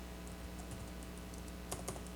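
Keys clatter on a computer keyboard in a quiet room, a sparse run of soft taps building to a few sharper clicks near the end, over a faint steady hum.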